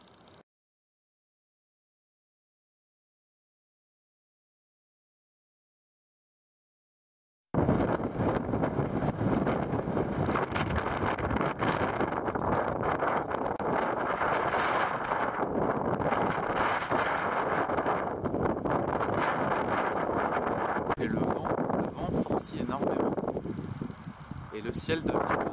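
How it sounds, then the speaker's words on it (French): Strong stormy wind buffets the microphone outdoors in mountain country near Tekapo, a loud continuous roar with gusty rushes after several seconds of silence. "Cette nuit, il y a eu énormément de vent et là, ça souffle énormément aussi."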